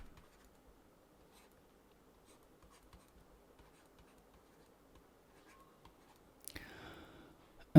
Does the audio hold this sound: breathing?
no